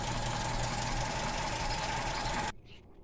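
A warmed-up VW Gol engine with a Weber 460 carburetor idles with a steady, slightly knocking hum for about two and a half seconds, then cuts off abruptly into near silence.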